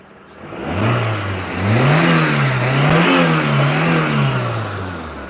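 A Proton Saga Iswara car engine runs close by and is revved repeatedly, its pitch rising and falling in waves over a steady loud drone, with no talk.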